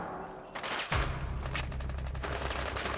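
Gunfire in Rainbow Six Siege erupts as a heavy close blast followed by a rapid string of automatic shots, loud and dense over a low booming rumble.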